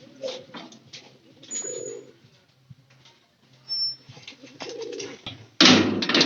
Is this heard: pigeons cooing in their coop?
yes